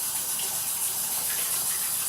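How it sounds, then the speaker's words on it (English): Tap water runs in a steady rushing stream as hands are rinsed under it, close and continuous, with no talking. "Just rinse my hands off."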